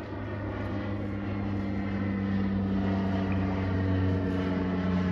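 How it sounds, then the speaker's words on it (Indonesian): A steady low propeller drone of an airplane overhead at a beach, constant and fairly loud with a slight swell toward the end, no voices. "Ada kapal terbang guys. Kapal terbang lah."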